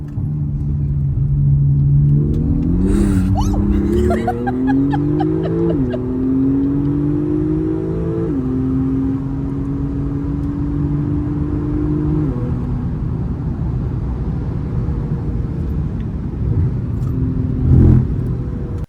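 A Techart GT Street RS, a 770 hp car, accelerates hard through several gears, its engine note rising in stepped pulls with brief shift breaks, loud and close from inside, then settling into a steady cruising drone.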